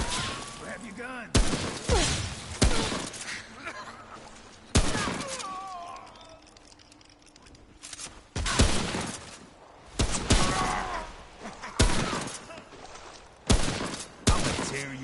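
Loud, punchy bursts of gunfire in the video game Remnant from the Ashes, arriving in irregular volleys with sharp impacts and brief quieter lulls between them, with occasional in-game voices underneath.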